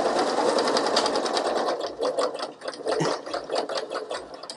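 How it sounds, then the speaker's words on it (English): A sewing machine runs a straight stitch through fabric for a Barbie doll dress, whirring steadily and closely with a fast mechanical chatter that slows slightly toward the end. "I'm going to switch to a straight stitch."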